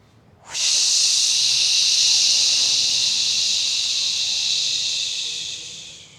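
A single long, forceful yoga-breathing exhale hisses out through the nose or mouth, emptying the lungs, starting abruptly and slowly fading over several seconds, close and alone.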